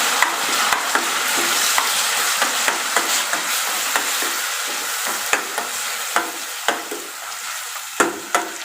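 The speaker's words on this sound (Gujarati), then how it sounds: "ડુંગળીની પેસ્ટ ગોલ્ડન બ્રાઉન કલરની થાય ત્યાં સુધી એને થવા દઈશું" Onion paste made from two large onions sizzling in a pan as it fries toward golden brown, steady crackling hiss with regular scraping stir strokes, close and clear, with no talking.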